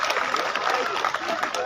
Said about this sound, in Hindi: जोरदार तालियों से स्वागत कीजिए हमारे भामाशाह का।